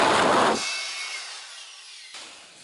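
Brief powerful whoosh from an electric air blower cleaning a Cooler Master ATCS 840 PC case, a loud blast that cuts off and leaves a fading hiss, with a faint second puff near the end.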